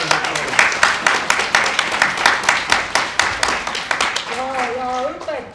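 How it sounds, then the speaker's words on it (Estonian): An audience at an amateur theatre festival in Elva claps together in a steady, rhythmic beat, sharp and fairly close, before a voice briefly speaks at the end. "suur aplaus teile"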